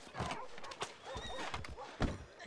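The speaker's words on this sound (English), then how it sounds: "Damn horse kicked me off again." A horse in Red Dead Redemption 2 whinnies and stamps, with clopping hooves and thumps in a busy game scene with low background voices.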